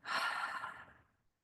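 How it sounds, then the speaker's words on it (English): A single long, breathy sigh pushed out through the mouth during a tai chi breathing exercise, loud at first and then trailing off over about a second, heard alone. "And a huge breath out the mouth, like you're sighing out."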